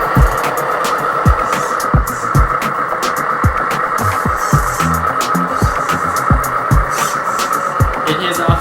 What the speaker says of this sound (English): Start engine sound.